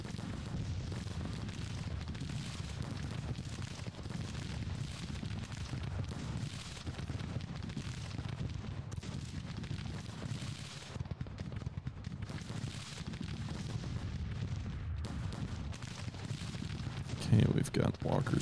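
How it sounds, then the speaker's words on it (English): Musket volleys and artillery in Grand Tactician: The Civil War, a dense continuous rumble of distant gunfire and booms filling the whole stretch, with a sharper burst near the end. "I moved the 4th New York out of their trenches so they can fire into Winder's brigade as well"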